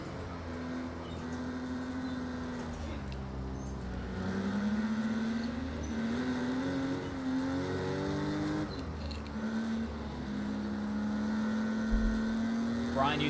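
A race car engine in a simulator racing game drones and shifts pitch as it accelerates and downshifts through corners, heard moderately under a commentator's continuous talk.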